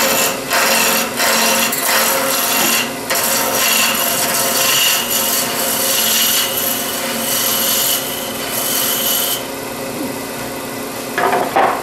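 A wooden acorn Christmas ornament blank is roughed out on a wood lathe: a loud, continuous scraping and rasping of the tool cutting the spinning wood, with short pauses and a shift in tone near the end.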